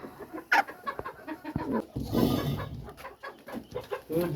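Chickens cluck steadily inside a hen house on a small egg farm, a close, continuous chorus of overlapping clucks with occasional louder calls.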